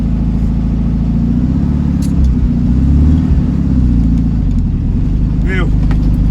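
Engine of a ratty, lowered 1967 VW Beetle while driving, a steady low rumble that fills the cabin throughout, with brief faint squeaks and rattles over it and no clear talk.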